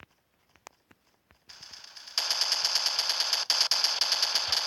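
Gunfire in the multiplayer shooter game Standoff, starting with a few scattered clicks and taps, then breaking into loud, sustained rapid automatic bursts with a brief gap near the end.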